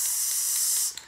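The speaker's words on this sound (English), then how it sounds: "Spray paint bleeds. It's like a shotgun. It just hits a wide area." An aerosol can of spray paint lets out a steady, loud hiss for almost a second, then cuts off, leaving a few faint clicks and taps.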